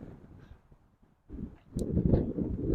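Gusty wind buffets an outdoor microphone on a blustery day, a low rumbling roar that eases to near quiet briefly, then swells back louder and sustained.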